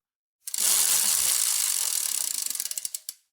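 A spinning prize wheel ratchets loudly against its pointer, the rapid clicks running together at first, then spacing out into distinct ticks as it slows and stops.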